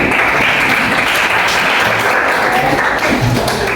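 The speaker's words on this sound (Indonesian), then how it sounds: "Tepuk tangan." Loud, dense applause fills a classroom group presentation on hadith, a continuous close clapping wash with no pauses.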